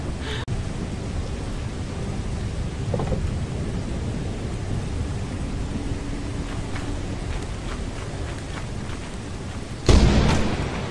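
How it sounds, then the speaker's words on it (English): Lightning strike in the video game Lethal Company: a steady broad rain-like roar carries throughout, then a sudden loud cracking thunder burst near the end, close and sharp with a rumbling tail. "Marty died by that lightning strike."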